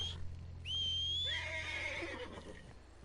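A horse in Red Dead Redemption 2 whinnies once, a high drawn-out neigh that breaks into shaky descending tones, heard close over a steady low hum.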